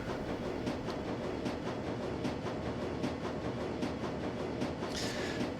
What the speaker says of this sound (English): The train comes to a halt and the doors open.